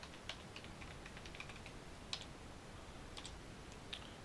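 Quiet keystrokes on a computer keyboard, a scattered run of soft clicks with a few sharper taps, faint and close in an otherwise still room.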